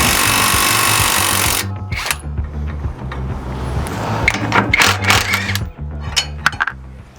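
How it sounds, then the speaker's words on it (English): Nuts being spun off the strut bolts of a 2021-or-later Ford Bronco with a power tool: a loud, dense whirring burst at the start, then repeated shorter buzzing runs and metallic clicks close by. "we can go ahead and take these two nuts off here"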